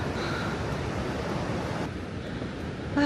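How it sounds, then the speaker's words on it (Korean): Ocean waves breaking on a shore along the Samcheok–Taebaek coast, a steady close wash of surf and wind rushing continuously with no one speaking. "저 파도 치는 거 봐."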